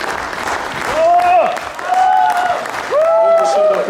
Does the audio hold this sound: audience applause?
yes